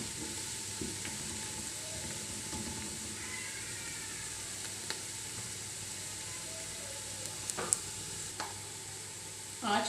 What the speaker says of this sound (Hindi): ऑनियन और लहसुन डाल देंगे। थोड़ा सा और गोल्डन करना है।